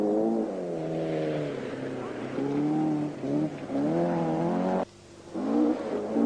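An Opel Kadett Group 1 rally car's engine revs and drones loudly on a British rally stage, its pitch rising and falling through several surges with a brief dip near the end.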